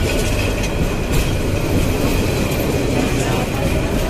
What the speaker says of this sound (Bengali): আগে গেল চট্টলা 802, এখন যাচ্ছে যমুনা